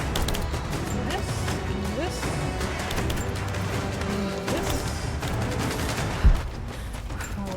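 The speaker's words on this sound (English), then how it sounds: "I hear the pops, but I can't find the source of them popping. Who's shooting?" Gunfire pops in Rise of the Tomb Raider, a steady mix of shots and crackling impacts over constant game noise, with one sharper thud near the end, moderately loud and unbroken.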